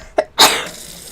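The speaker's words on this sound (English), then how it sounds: "I have to sneeze." A person gives a single sneeze: a short catching intake, then a sharp, loud burst that trails off quickly, with no talking during it.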